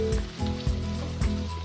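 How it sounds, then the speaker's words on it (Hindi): Chilli, turmeric, coriander and cumin sizzle in hot oil for a dhaba-style dum aloo, a close, steady frying crackle broken by a few soft stirring knocks. "ये सब डालने के बाद हम इसे अच्छे से भून लेंगे"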